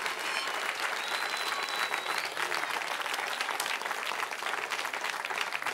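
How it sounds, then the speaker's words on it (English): Sustained audience applause fills a college commencement ceremony at Foothill College, a dense, steady wash of many hands clapping throughout with faint crowd murmur beneath. "give them a round of applause"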